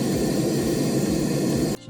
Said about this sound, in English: Play the pink noise